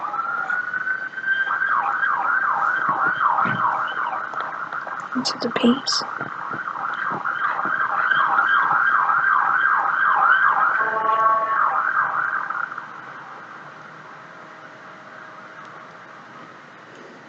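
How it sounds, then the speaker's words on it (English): A wailing emergency siren sweeps up and down repeatedly, fairly loud and nearby near a hospital, then fades away; brief quiet speech is heard partway through. "Excuse the sirens if you can hear that."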